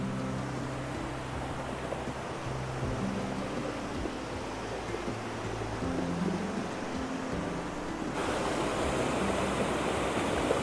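A small waterfall at Vickery Creek in Atlanta roars as a steady broadband rush of falling water, loud and continuous with no voices.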